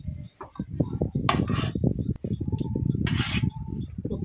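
Spoon scraping and clattering in a pan while mixing an egg chop filling of spices and chopped coriander, making irregular metallic scrapes and knocks under continuous talking.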